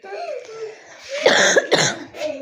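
A few sharp, raspy coughs bunched together in the middle, with soft murmuring before them and a short hum afterward.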